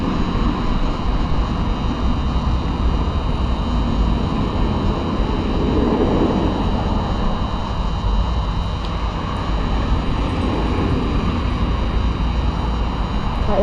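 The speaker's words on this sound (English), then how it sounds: "he just sees like a drone circling him" A BetaFPV Meteor75 Pro II FPV drone flying around a playground, giving a constant, dense whirring buzz that stays loud and steady for the whole stretch, with no talk over it.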